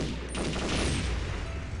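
Gunfire in the Perfect Dark video game, level Maian SOS, a dense continuous burst of rapid shots lasting the whole moment with a sharp attack near the start, loud and steady.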